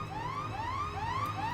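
Alarm in Garry's Mod Black Mesa roleplay: repeated rising electronic whoops, about four evenly spaced sweeps, moderately faint over a low steady hum.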